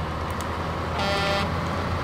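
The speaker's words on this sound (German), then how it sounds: "Hier mit seiner Aggressivität auf die Hupe schlagend" A semi truck's horn blares for about half a second in SnowRunner over a steady low engine rumble, with a couple of faint earlier toots.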